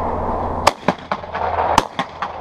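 Sharp shotgun reports at a skeet shooting range, several loud close bangs spaced irregularly over a couple of seconds over a low background hum.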